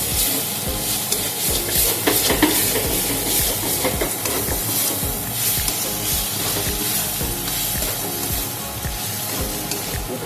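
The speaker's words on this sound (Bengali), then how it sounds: "মাছটা আমি খুব ভালো করে কষিয়ে নিয়েছি, এখন দেব ধনেপাতা কুচনো, দিয়ে নাড়াচাড়া করে আমি এখন নামিয়ে দেব" Katla fish filling with chopped coriander leaves stirred in a pan, a steady close sizzle with repeated scraping strokes of a spoon throughout, no voices.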